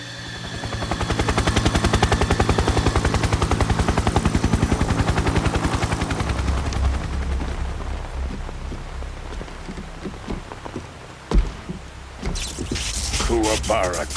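In the Metal Gear Solid 3: Snake Eater video game, a helicopter's rotor thrums loudly beneath rapid gunfire, fading into rain-like noise with scattered shots and speech over the game audio.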